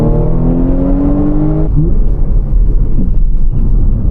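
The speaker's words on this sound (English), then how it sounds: "It is just an A5 with a fat engine and a bit more mods done to it." A modded Audi S5, essentially an A5 with a larger engine and a 7-speed gearbox, drones loudly and steadily on tight country lanes. A rising engine note breaks off with a gear change and settles into a lower, gruff hum.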